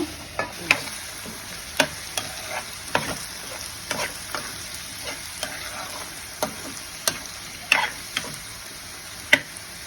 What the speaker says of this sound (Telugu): మన సీమంకాయ అయితే వేగుతుంది బాగా వేగనిద్దాము